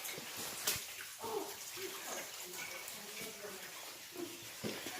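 Water drips and trickles inside Jaskinia Mroźna, an ice cave in Dolina Kościeliska, with a steady wet rush and scattered close drops echoing among the rock, and faint voices now and then.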